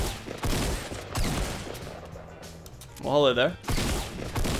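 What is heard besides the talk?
gunfire shooting at player in Fortnite video game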